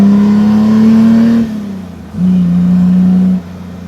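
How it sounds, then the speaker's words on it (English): An Austin Healey 3000 works car engine revs sharply once on a downshift, drops off, then blips again to a steady high rev before cutting back, loud and close. "blip the throttle, double D clutch and down into the next gear"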